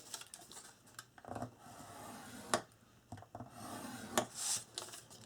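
Paper is scored on a scoring board for an accordion album, with faint, intermittent scraping strokes and light taps spaced irregularly and heard close up.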